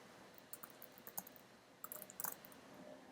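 Quiet typing on a computer keyboard while entering text in the Vim editor: two short bursts of light, irregular key clicks separated by a pause, close and soft against a faint room hiss.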